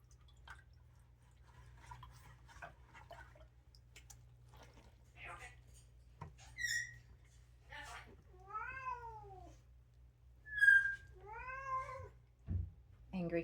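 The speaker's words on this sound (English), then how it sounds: "Angry cat wants out." A cat meows loudly several times in drawn-out, rising-falling cries, with faint dripping and soft background noise between them.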